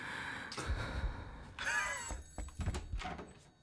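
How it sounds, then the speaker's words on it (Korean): A telephone rings inside the 3D Ao Oni horror game, giving a short bell-like trill over quiet room ambience, with soft thumps around it. "아 울리는 전화를 찾아야 돼."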